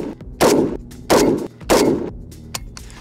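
Three loud gunshots from a PSA 5.56 Krink rifle fired at steel targets outdoors, each a sharp close blast with a ringing tail, spaced roughly half a second apart, followed by a faint fainter tap.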